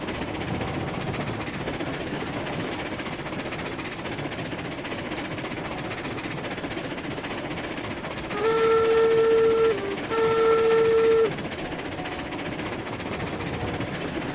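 A Cook 280 steam locomotive pulls a light train in Railroads Online, a steady rumbling chug running throughout, broken by two long whistle blasts near the end.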